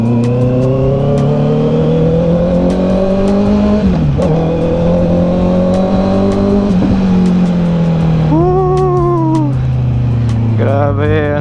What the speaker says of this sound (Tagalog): CB650R na nakakabit ang bago nating pipe.